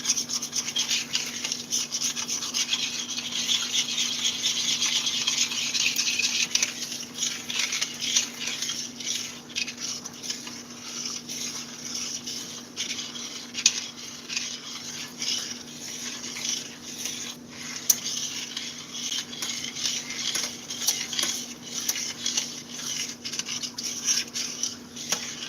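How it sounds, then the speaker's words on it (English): Potatoes being mixed in a pan on a grill, with continuous rubbing and scraping of a utensil against the pan over a steady background hum. "you're going to put that back on the grill and mix that up really good."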